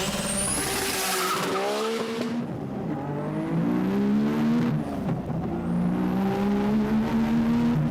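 A 1996–97 Nissan GTR with a 5-speed manual on Super Advan tires driving hard on a track, engine revving and shifting loudly up close with tire squeal.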